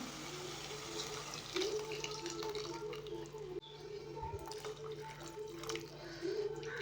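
Water pours and splashes into a pan of sardine fish curry in a steady stream, with a soft clunk partway through and a faint hum underneath.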